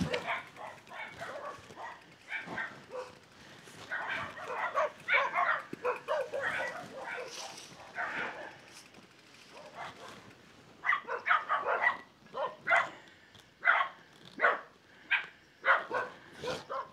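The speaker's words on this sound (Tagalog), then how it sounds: "Lumabas na isang aso." A dog barks repeatedly in short bursts along a rural trail near Kawayanan Falls in Amadeo, Cavite, the barks moderately close and irregular, pausing briefly before a further run of barks.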